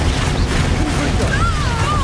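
A Confringo blasting spell erupts in Hogwarts Legacy combat, a loud sustained rumble of explosive magic with whistling tones rising over the din.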